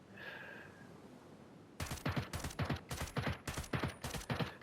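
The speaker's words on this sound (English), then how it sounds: "Trying to get as many rounds off as we can." Rapid semi-automatic gunfire from an M4A1 tactical rifle in the video game Ghost Recon Breakpoint: after a quiet lead-in, about a dozen sharp, loud shots ring out in quick succession, close and without talk.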